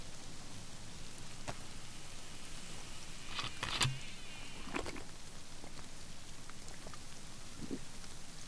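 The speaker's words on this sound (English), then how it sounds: "It's raining again." Steady rain falls in the DayZ video game, an even hiss of drops with a few scattered taps and faint buzzing insect-like tones, continuous throughout and moderately quiet.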